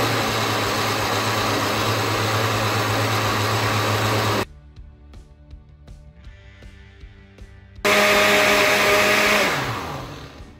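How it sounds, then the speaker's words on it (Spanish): A kitchen blender whirs loudly while mixing batter for a cold cuts cake, stops for a few seconds, then starts again in a second burst before winding down. "Ahí tapamos la licuadora, encendemos y licuamos."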